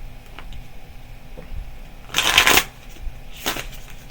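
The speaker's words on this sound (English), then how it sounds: "They shuffle just like playing cards." Sturdy playing cards from a limited-edition card game being shuffled, with two loud ruffling bursts, close and crisp, over quiet room noise.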